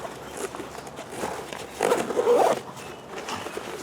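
A short zipper pull on a pack pouch rasps close up, a quick scratchy run of teeth over faint rustling handling noise.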